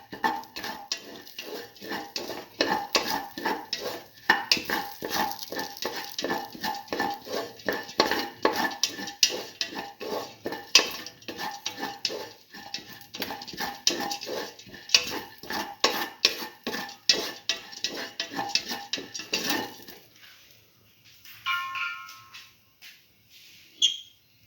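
A spoon scrapes and clanks steadily around a pot while lentil rice is mixed with salt, close and rhythmic for about twenty seconds before a few softer knocks, with no talking.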